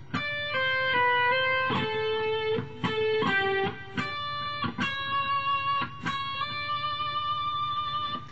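Solo classical guitar plays a short melodic phrase from Pachelbel's Canon, single plucked notes moving through a line with some ringing into the next, clear and close.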